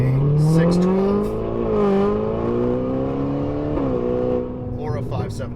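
An upgraded aftermarket exhaust on a Ferrari Roma revs loudly and close up, its engine pitch climbing and falling through several sustained pulls before settling into a rougher idle-like rumble.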